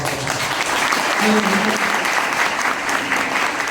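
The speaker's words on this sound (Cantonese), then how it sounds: "而家喺播之前，俾啲掌聲張善導先生" An audience at a formal high-table dinner bursts into sustained, dense applause, many hands clapping together evenly and loudly throughout, with faint voices mixed in.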